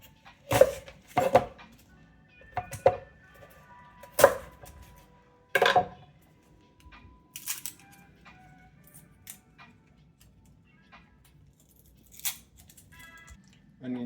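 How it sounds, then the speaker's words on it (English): Knife slicing peeled onions into thick pieces for a chocolate habanero fermented sauce, heard as a series of sharp, close cuts and chops, several in quick succession then spaced out, with quiet gaps between. "Onions are peeled, and I'm going to slice them thick like that."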